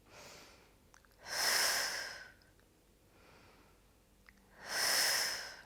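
Two long, strong breaths pushed out through the mouth during a Pilates mat exercise, separated by softer inhales, close and clear with no talking over them.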